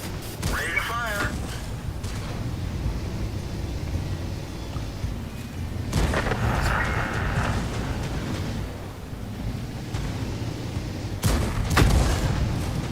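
Tank cannon firing high-explosive shells in World of Tanks, heavy booms spaced several seconds apart, near and loud over a continuous engine rumble, with voices talking over the battle.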